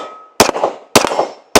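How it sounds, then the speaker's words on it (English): Three loud, sharp shots from a Sig 1911 Series X pistol fired without a suppressor, evenly spaced and close, each followed by a ringing, echoing decay. "I know you all want to see it shot without a suppressor on it"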